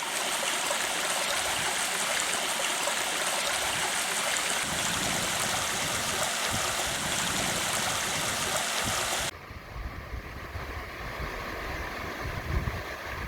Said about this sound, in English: This is the river which supplies the Blaen-y-Glyn waterfall.